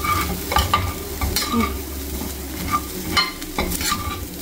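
Paneer frying and being stirred in a hot pan, meant to go with dosa and chapati: steady sizzle with scraping strokes of a spatula, close and fairly loud; a single short spoken word cuts in.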